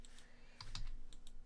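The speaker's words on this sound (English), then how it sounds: "I don't know why I'm typing so many E's." Keys on a computer keyboard click in short bursts of quick, light taps, close but quiet, with brief gaps between strokes and no speech.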